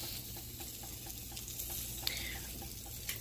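Buttered buns set butter side down in a preheated grill pan over medium-low heat, giving a steady, soft sizzle and crackle with a few faint scrapes and taps throughout.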